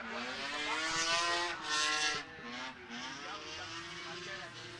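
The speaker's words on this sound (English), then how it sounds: "Okay, now it's Jan Flaszinski with really nicely looking E46." A BMW E46 drifts on the Slovakia Ring race track, its engine revving hard and changing pitch through the run, loud and near, with a commentator's voice faintly underneath.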